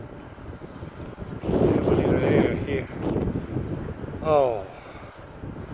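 Wind gusting outdoors in hot weather at a rope access site, rough rushing buffets on the microphone that swell and fade, with a person speaking at times.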